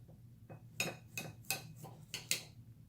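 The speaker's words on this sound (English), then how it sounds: "We're going to go ahead and cut into them and see how this turned out." A knife saws into a pan-seared pork chop on a plate, making about six quiet, clinking scrapes of metal against china in a loose rhythm, close but faint.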